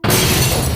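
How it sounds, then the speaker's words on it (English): Glass shattering as crystals smash into a hallway mirror: one sudden loud crash with bright breaking fragments that ring on for under a second, alone and close. "The crystals smashed into the mirror in the hallway."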